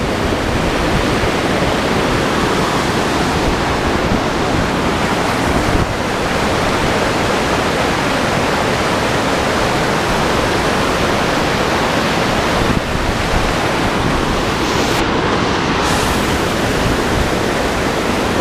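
Steady roar of a waterfall on Chambers Creek, water pouring over rock above the first falls where a big tree leans against it, a dense continuous rush close by with no one talking.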